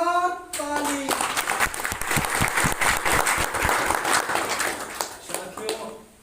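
At a Guru Purnima puja gathering, a crowd bursts into loud, dense clapping for their guru right after a voice, the applause running several seconds before fading as talking resumes.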